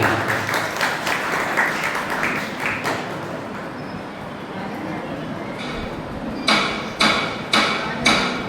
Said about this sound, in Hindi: उनके लिए हम जोरदार तालियां बजाएंगे।